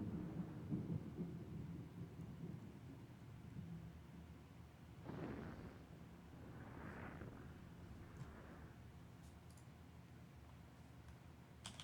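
Thunder from an approaching storm, heard outdoors, rolls in as several distant, low rumbles that swell and fade over a steady hiss, all fairly faint.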